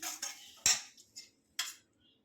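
Spoon clinking against a pot while stirring vaghareli rotli, Gujarati tempered flatbread, with salt mixed in: a few sharp metallic taps and scrapes spaced apart, close and fairly quiet, no talking.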